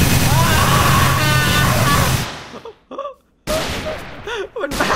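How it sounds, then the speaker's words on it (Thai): Rapid bursts of gunfire in the Minecraft video game, loud and dense for two seconds, then scattered bursts with gaps, mixed with an excited voice and game noise. "มันบ้าไปแล้วอ่ะยิงปืนอย่างเดียวเลย"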